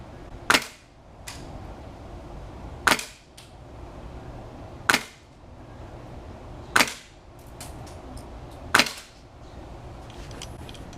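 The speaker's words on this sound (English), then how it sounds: "it's consistently shooting the BBs through" Five sharp pops from a Polarstar airsoft gun firing BBs at 70 PSI, spaced about two seconds apart, each a crisp snap with a short hiss of air trailing off, loud and close over a low room hum.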